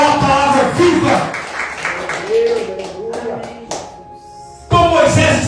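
A church congregation claps during a Pentecostal service, a broad, continuous patter of applause mixed under a preacher's ongoing speech, swelling again near the end.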